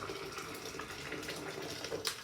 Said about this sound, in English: put the boiling water in the pot so it doesn't take too long.